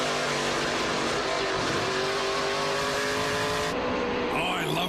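Onboard engine of Andrew Ranger's Mopar Dodge stock car racing at speed, a loud sustained high-revving roar with shifting pitch as it works through a corner, under a faint commentary bed.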